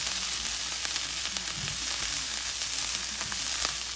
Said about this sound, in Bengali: ঘি দিয়ে এই পেঁয়াজটাকে এইভাবে